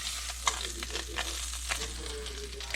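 Trout frying in butter in a pan, a continuous close sizzle and crackle with a few brief pops and a low steady hum underneath.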